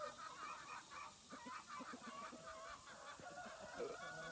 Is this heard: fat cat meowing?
no